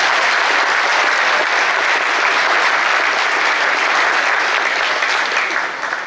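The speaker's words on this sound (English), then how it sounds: "Let's have a round of applause for them." A concert audience gives a round of applause for the seventy musicians of a symphony orchestra, a dense, even roar of clapping sustained throughout and easing slightly at the end.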